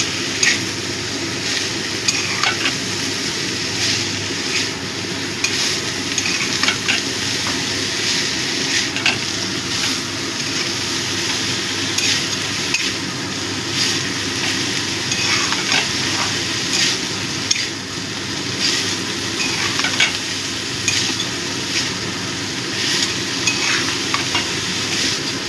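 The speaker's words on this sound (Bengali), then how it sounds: "ভালো করে মিশিয়ে দেবো।" Banana stem curry fries in a pan while being stirred, a continuous close sizzle broken by frequent scraping and knocking strokes of a spoon against the pan, steady and loud throughout.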